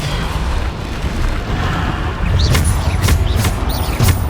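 Bombarda spell explosions in the video game Hogwarts Legacy: a dense rumbling blast followed by several quick, loud bursts in a row over ongoing game noise.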